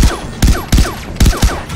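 Gunfire in Far Cry 3 Blood Dragon, about six loud close shots in an irregular quick rhythm, each with a brief sharp crack and a short decay, no talking between them.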